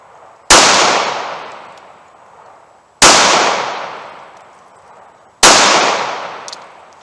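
Three loud, close gunshots from a .380 pocket pistol are spaced roughly two and a half seconds apart, each a sharp crack with a short fading tail.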